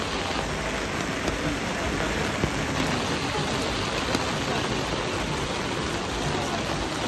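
Steady monsoon rain falls on surfaces, a dense, even hiss with occasional louder drops, close and continuous for the whole stretch.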